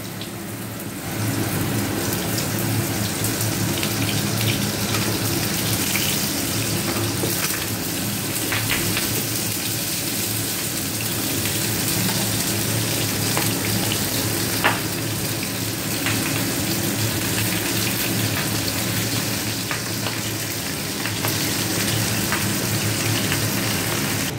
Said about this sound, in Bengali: তেল গরম হয়ে গেছে, পটলগুলো দিয়ে দিলাম।